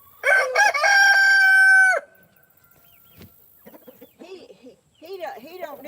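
Chickens cluck and a rooster crows loudly and close for about two seconds at a farm in Georgia, followed by quieter clucks and scattered bird calls with some background talk.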